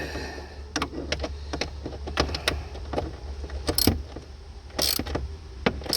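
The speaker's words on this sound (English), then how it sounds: "then I'll get my ratchet and I'll turn it like 1/8 of a turn just to get it to snug up" A hand ratchet snugs up a screw while working on a Pontiac Torrent key lock cylinder, giving irregular sharp clicks spread over several seconds, fairly quiet over a steady low background hum.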